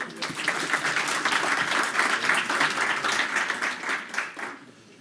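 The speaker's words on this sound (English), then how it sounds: "Let's give him an applause." Audience at a conference forum's poster pitch session breaks into applause, a dense, fairly close clapping lasting a few seconds before tapering off at the end.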